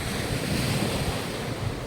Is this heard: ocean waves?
yes